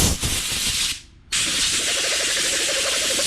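A handheld air blower puffs air across lawn mower parts during a Honda HRX217 tune-up, giving a loud, close rushing hiss that cuts out for a moment and then resumes steadily.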